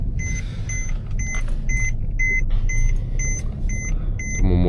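Mercedes-Benz C-Class W204 unfastened seatbelt warning chiming in a steady run of paired high electronic beeps, repeating evenly over a continuous low engine and road rumble inside the cabin.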